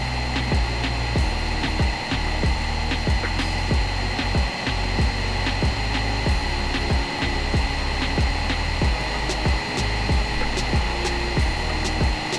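A turbo blower fan cooling a 3D printer gives a loud, close, steady whir. Rhythmic mechanical ticks and thumps run through it from the printer working.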